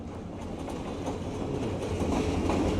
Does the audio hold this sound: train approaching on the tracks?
yes